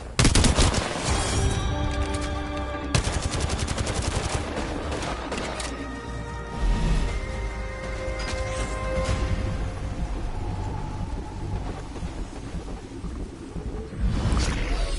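Dense, loud automatic gunfire from Apex Legends fills the stretch with rapid bursts and booming shots, separated by brief pauses and a whooshing movement sound, over a steady game background.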